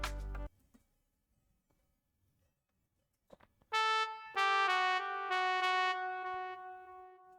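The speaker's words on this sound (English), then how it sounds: "So this is how the trombone sound like." Synthesized trombone from a brass section in FL Studio, for an Afrobeat production, plays a run of sustained, bright brass notes in a loud phrase after a short low burst and near silence.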